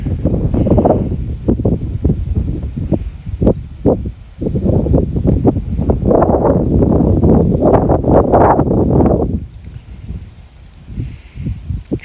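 Strong wind buffets the microphone outdoors during a DJI Mavic Mini drone flight, loud rumbling gusts surging and dropping irregularly for several seconds, easing to quieter fluttering near the end.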